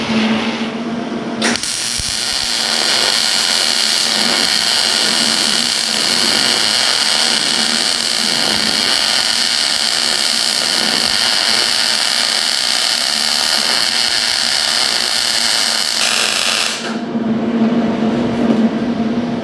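A small welder runs a long, steady bead on a trailer's 3/4-inch D-ring shackle mount: a loud, close, continuous crackling hiss that starts abruptly, holds for about fifteen seconds and cuts off sharply, with no talking.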